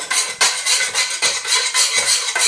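A utensil stirs plant-based glue in a pot on heat, making a steady rhythm of scraping and clinking against the pot, close and clear, with no voices.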